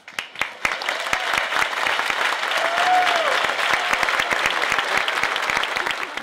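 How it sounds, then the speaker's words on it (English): Audience applause at an outdoor renewable energy and sustainable living fair after a tree dedication, starting with a few scattered claps and swelling into sustained, fairly loud clapping with a brief voice or whistle mid-way. "Applause."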